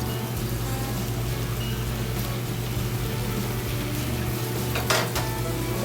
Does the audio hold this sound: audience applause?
no